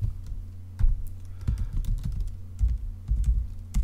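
Keys clack on a computer keyboard in uneven bursts while code is typed into a text editor. The strokes are close and fairly loud, with short pauses between clusters.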